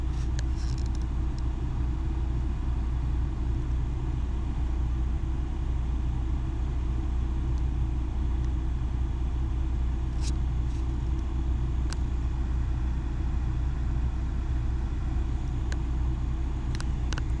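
A 2002 Toyota Corolla with a 1.8L engine and a lean fault idles at a steady, low rumble that stays even throughout, with no voices.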